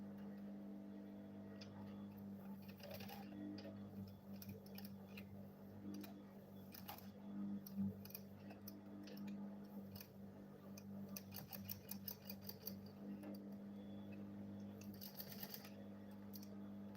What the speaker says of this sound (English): I'm now go ahead and sew it.